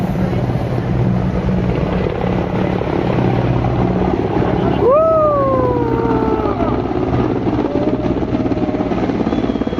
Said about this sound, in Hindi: ओह हेलीकॉप्टर आ रहे हैं भाई।